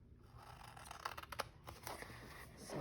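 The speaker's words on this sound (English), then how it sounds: "Now, because it's not straight, I will have to cut that part." Scissors snip through a paper page being trimmed for a Bible study journal, giving a soft, close cluster of crisp cuts in a quiet room.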